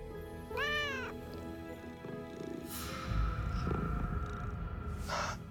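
A cat meows in a clear rising-and-falling call near the start, then more cat vocal sounds follow over a steady background hum, fairly close and loud.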